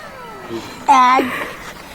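A single cat meows once, short and close, amid casual talk between people, with a voice also audible.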